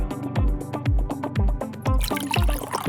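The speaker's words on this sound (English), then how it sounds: "Now I'll pour in milk." Milk poured into a bowl in a home kitchen, a rhythmic glugging pour with repeated pulses, close and loud, with brighter splashy noise toward the end.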